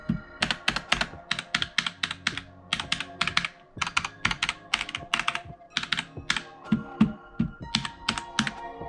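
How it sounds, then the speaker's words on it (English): Steady, rapid clacking of a TECWARE Phantom TKL mechanical keyboard with Outemu Brown switches, close and fairly loud, slightly resonant, in quick bursts with brief pauses between runs. "this the keyboard does resonate a little bit"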